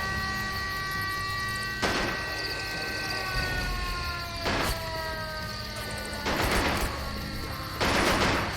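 Gunfire bursts in the War Games video game, four loud broadband volleys cutting through a steady drone of sirens and tonal game sound.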